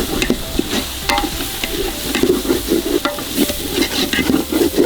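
Country chicken fries in a pan with ginger and garlic, giving a steady close sizzle broken by repeated scraping stirs of a utensil, with no talking.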